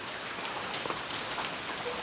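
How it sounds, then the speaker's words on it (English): Rain falls around the Longley covered bridge, a soft, even hiss of drops with faint patters, steady and fairly quiet as heard from under shelter. "Will keep us out of the rain"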